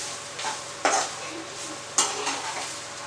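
Old grated coconut frying in a pan with a continuous soft sizzle, broken by two sharp scraping strokes of a spoon against the pan about a second apart, close and moderately loud.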